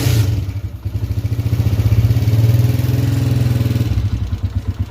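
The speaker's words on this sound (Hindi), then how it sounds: "जी दोस्तों, बाइक स्टार्ट है," A Honda CG125 motorcycle, freshly rebuilt with new piston rings, idles steadily after a kick start, its single-cylinder engine thumping in a fast even rhythm with light tappet ticking, loud and close.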